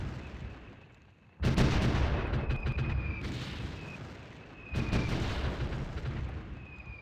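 Artillery guns firing in the SR2030 strategy game, with two heavy booming salvos a few seconds apart, each followed by a long rumbling decay.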